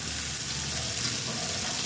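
Sweet potato tops and eggplant fry in a pan, giving a steady, even sizzle that stays constant throughout with no talking.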